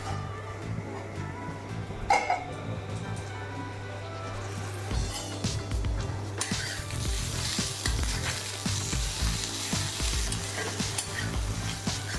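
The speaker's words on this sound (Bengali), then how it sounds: "উচ্ছে ভাজাটা আস্তে আস্তে হতে থাকবে" Bitter gourd slices fry in a pan with a continuous sizzle, broken by scraping stir sounds and a brighter burst of hissing later on, all close by and without speech.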